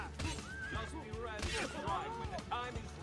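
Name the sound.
horse neighing in the video game Assassin's Creed II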